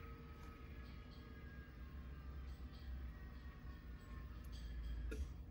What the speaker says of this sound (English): you hear the pump, lift off, and it drops back down